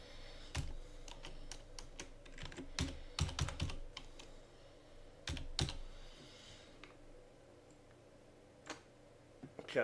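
Irregular bursts of typing on a computer keyboard while writing code, clustered keystroke clicks near and fairly clear over a quiet room, with pauses between flurries and no talking.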